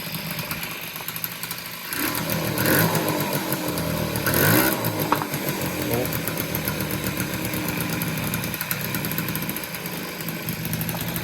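A Honda Dio scooter engine with aftermarket intake, new carburetor and new top end runs steadily with a buzzy, rattling idle, rising briefly a couple of times, close and loud throughout.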